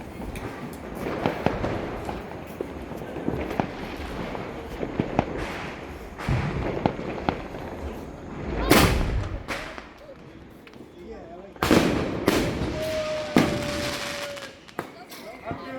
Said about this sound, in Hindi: अब ये चला रहा है क्या स्काई शॉट बड़े वाला। जलाओ भाई, जलाओ जलाओ।